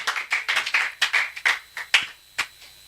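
Church congregation clapping in acclaim of God: a short burst of brisk, close claps, dense at first, then thinning out to a few scattered last claps, with no talk.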